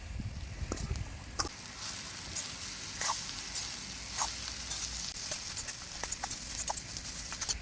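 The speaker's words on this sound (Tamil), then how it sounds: "இதை நல்லா கிண்டி விடலாம். இப்போது வாழைக்காய் திருவி வச்சுருந்தோம்ல, அதை போட்டுக்கலாம்." Grated raw banana sizzles steadily in a hot pan while a spoon stirs it, sharp scraping clicks and taps breaking through the constant frying hiss, close and fairly loud.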